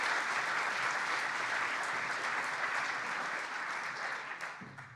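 An audience at a conference session claps steadily in a full, even burst of applause that holds for several seconds, then thins and fades out near the end.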